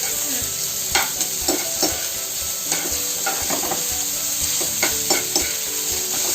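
Onions fry in a pan for a village-style beef curry, a bright constant sizzle overlaid with repeated spatula stirs and scrapes at an uneven pace, close and loud, without any voices.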